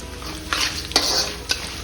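Chana dal, urad dal and mustard seeds hitting hot oil for a pickle tempering, a brief sizzle with a few sharp crackling pops and stirring scrapes, close and alone.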